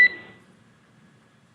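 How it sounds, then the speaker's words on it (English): A single short electronic beep from an alarm aboard a SpaceX Dragon capsule after splashdown, sharp at the start and then fading quickly into near silence. "There is a chance that we get a lot of alarms."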